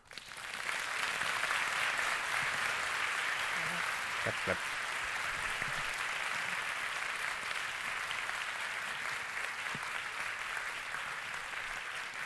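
Audience applause after a TED talk on space debris, a continuous, even wash of clapping heard somewhat distant and muffled, sustained for the full stretch, with a few faint brief voices underneath.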